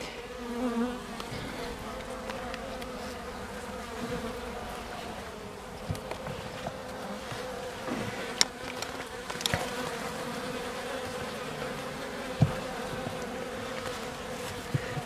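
A dense, steady hum of many young honeybees buzzing around a tall hive nearby, continuous throughout with occasional faint clicks and bumps.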